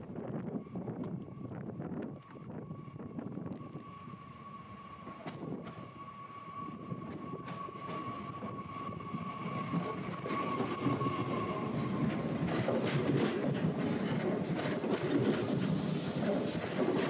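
A French train moves through the border station at Portbou, a steady rumbling rail roar that holds for the whole stretch and swells louder toward the end, with a sustained tonal whine running through it and no talk.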